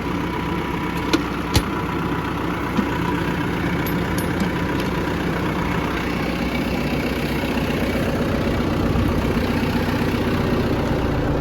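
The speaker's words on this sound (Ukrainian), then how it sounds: "У тракторі шумно" A Lovol 1054 tractor engine, ploughing with a Lemken EurOpal 5 plough, drones steadily from inside the cab, a loud continuous low rumble with a few faint clicks near the start.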